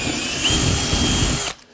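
A power drill bores a hole into wooden window trim, a close, loud steady whine lasting over a second before cutting off abruptly.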